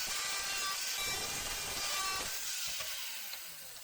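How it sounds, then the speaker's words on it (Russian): An angle grinder cuts through the metal of an old meat grinder with a loud, steady high-pitched whine that tapers off toward the end. "тем я и режу, то есть болгаркой"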